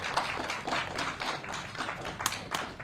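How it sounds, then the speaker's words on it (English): Courtroom onlookers applauding after proceedings end, a steady patter of separate claps with a few sharper ones near the end, moderately close and without voices. "They clapping at her"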